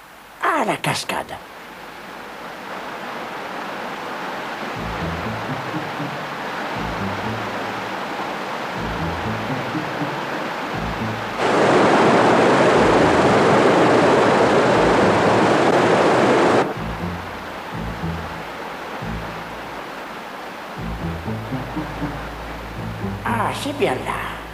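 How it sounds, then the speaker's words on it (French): Cartoon waterfall, a broad steady roar of rushing water that swells louder in the middle of the scene, with a voice speaking over the start and end. "Ah, la cascade."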